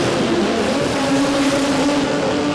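A sports compact drag car at a Brisbane drag racing meet does a burnout, a loud, close, sustained engine roar mixed with tire squeal that holds steady over a couple of seconds.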